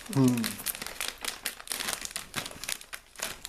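Plastic wrappers of Japanese snack packets crinkle and rustle close up in quick, irregular bursts, with a voice briefly heard at the start.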